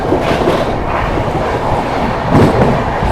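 The 12417 Prayagraj Express superfast passes through a station at speed, a loud steady roar of rushing coaches and rattling wheels with a brief swell near the end, no voices.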